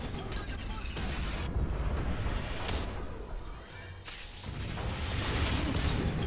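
Grenade blasts in the first-person shooter F.E.A.R. 3, a dense rumbling wall of boom and debris noise with bursts near one and four seconds, loud and sustained.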